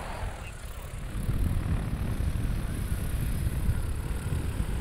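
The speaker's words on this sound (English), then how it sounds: "I'm going to go ahead and take off again." A DJI Agras T40 agricultural spray drone lifts off, its propellers spinning up into a loud, steady whirring roar that swells after a second and holds close and constant.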